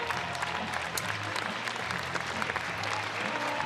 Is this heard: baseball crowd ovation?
yes